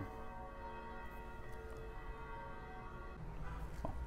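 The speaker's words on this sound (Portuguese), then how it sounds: "Se eu esperar a igreja aqui do lado parar de tocar o sino." Church bells ring with sustained overlapping tones, hanging steadily over a low background rumble, a little louder toward the end, with no one talking.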